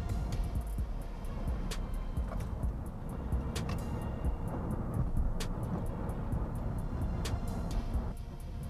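A Chevrolet Volt drives along with steady road and tyre roar and wind rush, while faint repeated ticks sound throughout from inside the cabin.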